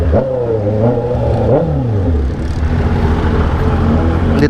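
Honda CB650R naked motorcycle engine revving close by, loud and steady with rising and falling pitch sweeps as the throttle is blipped, a voice briefly heard underneath.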